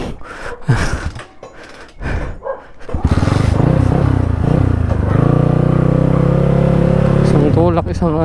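Motorcycle being push-started, with close voices and effortful breathing at first, then the engine catches and runs loudly and steadily near at hand through to the end.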